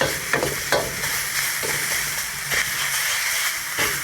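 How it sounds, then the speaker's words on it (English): Beef and capsicum stir-fry loudly in a hot pan, a constant close sizzle broken by sharp scraping strokes of a ladle pushing the meat around. "I can see that the beef is starting to brown very nicely."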